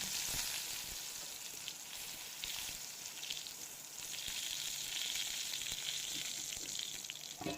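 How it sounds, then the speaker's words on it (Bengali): Brinjal slices fry in oil in a pan, giving a continuous soft sizzle and crackle throughout, fairly faint, with no talking. "এক দিকটা ভাজা হয়ে গেছে তো অপর দিকটা উল্টে দিলাম উল্টে পাল্টে ভালোভাবে ভেজে নিচ্ছি"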